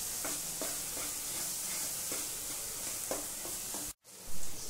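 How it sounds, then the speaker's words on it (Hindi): Masala sizzling and frying in a kadhai while a spoon stirs it in repeated scraping strokes, a steady close sizzle with a sharp break near the end. "3 से 4 मिनट तक अच्छे से मसाला को भूनेंगे"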